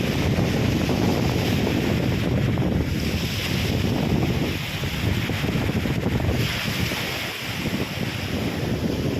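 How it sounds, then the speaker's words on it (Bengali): Strong wind sweeps a Malaysian beach lined with casuarina trees, a loud continuous roar mixed with crashing surf and rumbling microphone buffeting, easing slightly midway, with no talking. "এই যে ঝাউবন অনেক বাতাস"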